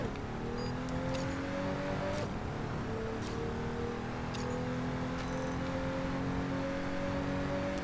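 Pagani Huayra BC supercar engine in the mobile racing game Racing Master, a steady droning hum with shifting tones as the car accelerates out of corners, with faint ticks over it and no voices.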